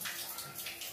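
Tap water runs steadily as someone rinses Holi colour off their face at a Bihari Holi gathering. The rush of water is continuous and fairly close, with no talking.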